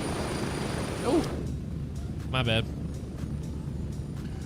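Continuous engine drone of an aircraft in the military shooter Gray Zone Warfare runs under the whole stretch, with a brief voice partway through and a short tonal burst near the middle.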